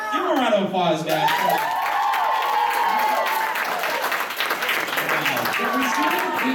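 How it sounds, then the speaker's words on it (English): Sustained audience applause and cheering fill a panel room at an anime convention game show, continuous and fairly loud, with a host talking over the crowd. "Give him a round of applause, guys."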